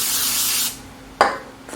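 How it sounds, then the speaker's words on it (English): Two hissing bursts from an aerosol butter cooking spray onto hands, a long steady one followed after a pause by a shorter, sharper spritz, close up. "spray your hands with the butter spray"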